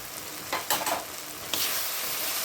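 Masala with Kashmiri chili powder sizzles and fries in oil in a pan while being stirred, a steady hiss with a few louder scraping bursts, close and with no talking.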